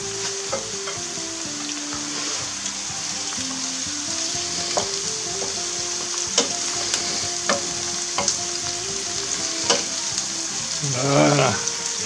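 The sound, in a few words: eggplant frying and being stirred in a pan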